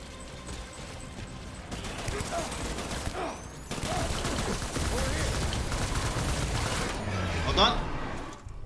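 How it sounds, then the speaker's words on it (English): Assault rifle fire in Death Stranding crackles in rapid volleys through a noisy battle, growing heavier in the second half, with speech mixed in. "Switching to assault rifle."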